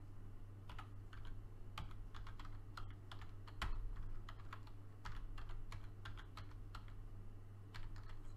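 A new password being typed on a computer keyboard: a steady run of close, light key clicks over a low hum, with no voices.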